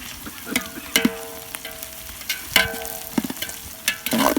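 Green chillies frying in a pan for village-style chicken biryani, a steady sizzle broken by repeated scrapes and clanks of a stirring spoon against the pan.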